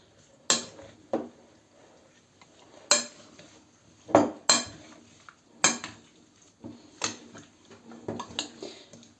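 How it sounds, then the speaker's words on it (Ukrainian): A spoon scrapes and clinks against a bowl while stirring a sour cream mixture, in a series of irregular strokes, close up, with quiet pauses between them. "І це тепер все гарно перемішаю."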